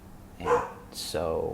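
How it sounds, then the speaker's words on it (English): A pet dog barks in the background of a room, a couple of short yelps partly under a man's speech. "excuse my dog in the background"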